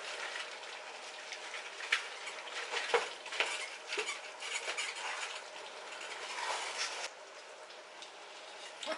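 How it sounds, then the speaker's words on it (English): A spoon scrapes and clinks steadily in a cooking pot as spinach is stirred into a Ghanaian okra stew. The stirring is close and continuous, with a few sharper taps against the pot and no talking. "the last part is to add our spinach to it"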